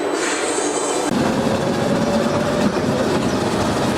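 An underground mail railway train rumbles steadily along the track in a tunnel beneath London, a continuous loud rolling roar with faint rattling, close by and without any voices.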